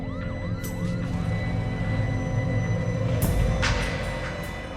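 An ambulance siren wails in rising and falling sweeps at a 1991 Gulf War base in Dhahran, Saudi Arabia, loud and near over vehicle rumble, with brief sharp bursts partway through.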